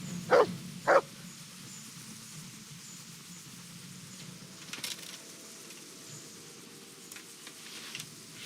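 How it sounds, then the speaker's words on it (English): A dog in the medieval game Kingdom Come: Deliverance gives two short, sharp barks close together near the start, then only quiet background ambience with a few faint knocks follows. "There's the good doggy. That's my boy."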